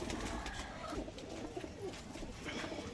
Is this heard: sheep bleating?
no